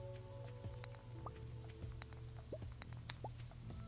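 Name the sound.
rain falling in a farming video game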